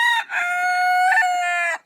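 A rooster named Valentina crows once, loud and close, in a single sustained call with a brief opening note, standing alone without any talk.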